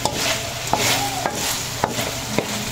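Pork sizzles in a little oil as it is stirred and seared, with soft scrapes and taps recurring about every half second over a steady frying hiss.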